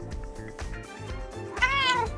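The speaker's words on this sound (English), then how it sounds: "There's the kitty." A house cat meows a few times close by, ending in one louder, drawn-out rising meow, with a soft background hum and no talking.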